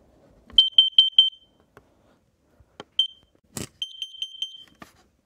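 Kidde carbon monoxide alarm giving a run of four loud, high electronic beeps, a pause with a few clicks and a thump, then another rapid burst of beeps, close and alone with no talking.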